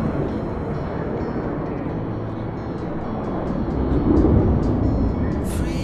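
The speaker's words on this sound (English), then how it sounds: "That's the loudest airplane I have ever heard." A very loud airplane passes over Lofoten, Norway, heard as a steady low roar that swells toward the end, with no voices over it.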